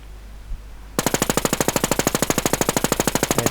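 Rapid machine-gun fire aimed at a boss in Infestation The NewZ, opening abruptly after a quiet moment and then rattling on as a steady, loud stream of evenly spaced shots.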